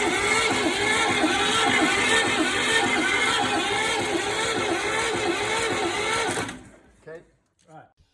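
A Lister SR2 diesel engine turns over on the starter without fuel, a steady rhythmic churning that runs for several seconds, then stops abruptly before a couple of faint knocks.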